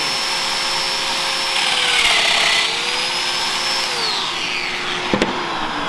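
A Festool Domino joiner runs with a steady high motor whine and a brief rise in pitch as it plunges into wood to cut joints, ending with a sharp clack near the close; no one speaks.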